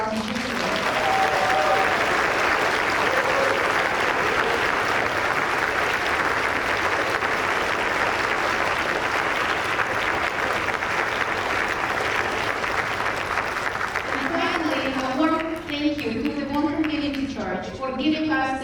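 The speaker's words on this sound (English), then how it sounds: "Can we get a big round of applause for our teachers today?" Long, steady applause from an audience at an annual group music recital honoring the teachers, dense clapping throughout, with a voice starting to talk as it fades near the end.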